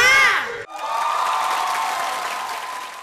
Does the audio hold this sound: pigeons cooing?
no